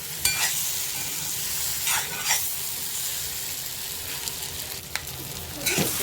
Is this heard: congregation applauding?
no